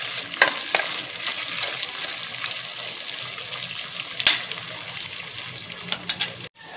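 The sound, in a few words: stirring paneer pulao mixture with fried onion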